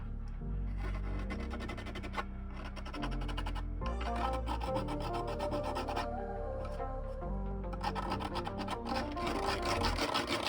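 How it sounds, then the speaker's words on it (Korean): A hand file rasps over a handmade mask in steady back-and-forth strokes, continuous and close, with a rhythmic scraping texture throughout. "마무리로 줄로 다듬어 줍시다."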